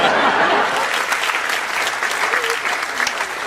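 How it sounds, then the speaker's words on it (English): Audience at a magic show breaking into applause, a dense burst of clapping from a crowd that is loud and close and holds steady for a few seconds. "Again, not everybody applauded."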